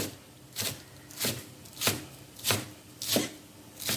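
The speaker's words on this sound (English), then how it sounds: "Spring onions, I'm just cutting them on a diagonal." A knife chopping spring onions on the diagonal on a chopping board for vegetable fried rice, seven evenly spaced thuds in a steady rhythm, close and clear with no talking.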